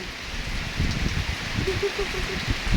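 Heavy rain falling at a farm, a soft steady patter and hiss on surfaces with occasional thuds, fairly faint, while people talk quietly nearby.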